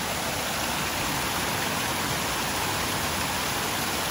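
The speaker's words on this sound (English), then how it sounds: "I mean, I hear water." Running water from a fountain or small waterfall, likely beside a koi pond, pours as a loud, steady broadband rush that fills the whole stretch without a break.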